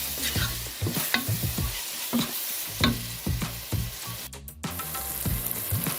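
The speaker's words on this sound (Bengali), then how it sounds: "মশলাটা দিয়ে আবারও দুধটা একটু নেড়ে নিচ্ছি" Spices being stirred into chickpea masala in a pan, a spoon scraping in steady repeated strokes over a continuous sizzle from the frying mixture, close and fairly loud with no talking.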